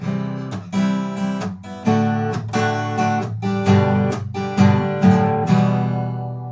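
Acoustic guitar strummed chords stepping downward in a steady rhythm, each chord ringing briefly before the next, played close with no voices.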